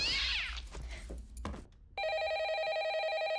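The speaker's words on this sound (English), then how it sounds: "phone suddenly ringing, only for there to be complete silence on the other end when Allison answers the" A telephone rings in a horror movie, preceded by other film sounds; the ring starts midway as a loud, steady electronic trill lasting about a second and a half, then cuts off.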